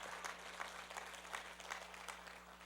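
Applause from a church congregation during a Sunday sermon, a steady wash of many hands clapping at low level over a constant hum, with no talk.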